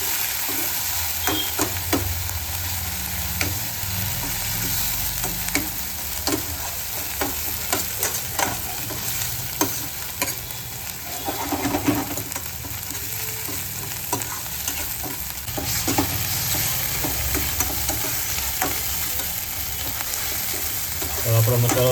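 Ginger, garlic and green chili paste fries in a pan for dhaba-style paneer butter masala, a steady loud sizzle with frequent spoon scrapes and stirring clatter throughout.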